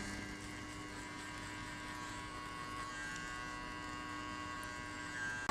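An electric shaver trims hair during a mullet mid fade haircut, giving a steady, even buzz with a faint hum that runs unbroken for several seconds at close range, with no talking.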